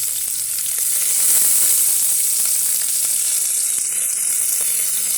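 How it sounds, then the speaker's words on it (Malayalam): Ginger, garlic and green chillies hit hot oil in a pan, giving a loud, steady, close sizzle with fine crackling throughout. "ഇഞ്ചി വെളുത്തുള്ളി പച്ചമുളക് ഇട്ട് കൊടുക്കാം"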